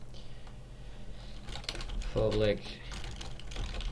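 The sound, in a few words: typing on a computer keyboard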